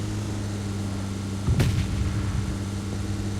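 A single gunshot sounds in a PUBG Mobile match, one sharp booming crack midway over a steady low hum of game ambience.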